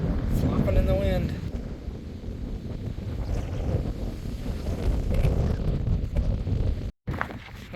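Strong gusts buffet the microphone at a canyon rim in Seminole Canyon State Park, Texas, a loud, continuous roar that rises and falls, with a brief dropout near the end.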